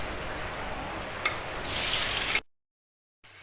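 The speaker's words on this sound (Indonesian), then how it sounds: "langsung aja kita goreng semua tomatnya." Tomatoes frying in hot oil for sambal, a steady crackling sizzle with a brief stir clatter, growing hissier before cutting to silence, then faint sizzling returns.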